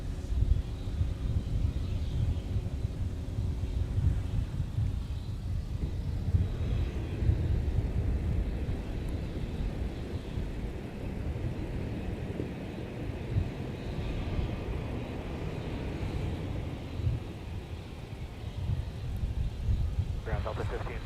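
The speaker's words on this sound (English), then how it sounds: "about to touch down on runway 30 left is Delta 1945 from Fort Lauderdale, an A321" An Airbus A321 airliner lands on runway 30 left at MSP airport with a loud, continuous low engine roar and rushing noise that holds steady for the whole stretch, heard from nearby.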